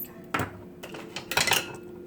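A few dry clattering scrapes as rice is added to a skillet of steak and broccoli, soft metallic knocks of a utensil against the pan with quiet gaps in between.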